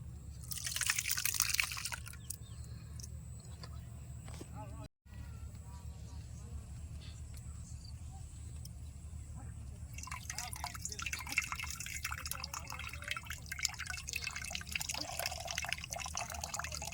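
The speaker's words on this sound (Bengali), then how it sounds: "এবার এটা সাদা কাপড়ের উপরে এই ছানার জলটা আমি জড়াই নিব" Chhena whey strains through a white cloth and drips into liquid, with trickling and dripping sounds that are loudest near the start and again in the second half. Background noise and a brief dropout break up the steady flow.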